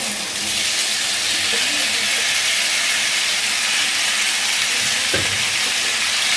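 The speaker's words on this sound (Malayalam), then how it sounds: "ഇനി നമുക്കിതിലേക്ക് തക്കാളി അങ്ങോട്ട് ചേർത്ത് കൊടുക്കാം." Chopped tomatoes sizzle and hiss steadily in a pan of sautéed onions while a chutney for dosa cooks, a continuous close frying crackle with a brief clatter near the end.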